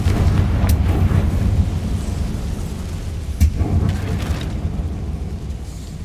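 The Confringo fire spell bursts in Hogwarts Legacy with a deep rumbling blast, followed by a sharp crack about midway, over a continuous low roaring game ambience.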